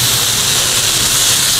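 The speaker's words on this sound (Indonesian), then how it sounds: "Kita tumis sebentar ebinya." Dried shrimp (ebi) cooked with spice paste and ground coriander in a little oil give off a loud, even, hissing sizzle that holds steady, close up, with no talking.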